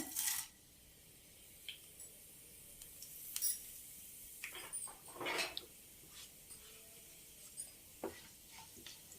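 Tempering seeds of mustard, cumin, chana dal and urad dal dropped into about three spoons of hot oil in a pan for cauliflower fry, giving faint sizzling with scattered sharp pops and crackles over a quiet background.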